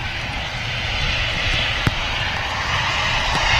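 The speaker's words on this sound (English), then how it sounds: "We do have another Jet2 757 on the taxi out" A Jet2 Boeing 757 in Holidays livery taxis out at Manchester Airport, its engines giving a steady, fairly loud roar and rumble with a brief tick partway through.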